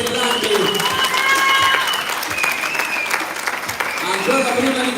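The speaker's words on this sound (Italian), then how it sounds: "posso chiedere al pubblico presente un applauso per entrambi?" An audience at an Olympic boxing bout breaks into steady, sustained applause for both boxers, a dense wash of clapping heard under a voice talking throughout.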